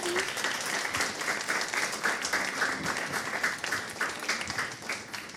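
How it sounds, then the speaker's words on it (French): A live audience at a Quebec biodiversity evening presentation gives sustained applause, dense steady clapping filling the room for the whole stretch with no talk over it. "On peut l'applaudir une dernière fois."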